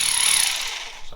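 A hammer drill fitted with a large Bosch chisel bit rattles in a fast, steady pounding burst that tapers off toward the end, sounding close and harsh.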